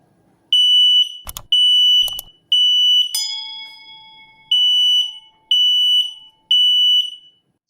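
A Daytech SM06TA smoke alarm, set off by vape vapour, shrills in loud, repeated high-pitched bursts, broken by a couple of sharp clatters and a long ringing tone midway.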